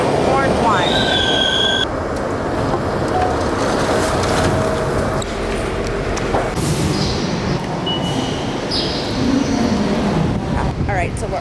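Inside a moving train in Miami: a steady rumbling ride with wheel squeals and screeches, while people talk over the noise.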